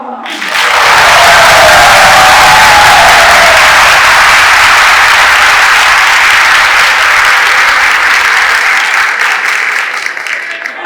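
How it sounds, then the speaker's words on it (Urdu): A large crowd at a Solidarity Day gathering at GC University breaks into loud, enthusiastic clapping and cheering that swells quickly and holds strong for about ten seconds before easing slightly. "جس جوش و خروش سے آپ تالی بجاتے ہیں"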